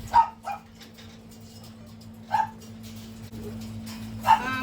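Puppies barking and whimpering in a kennel during visits: a few sharp, separated yips and barks spread across the stretch, moderately close, over a steady low background hum.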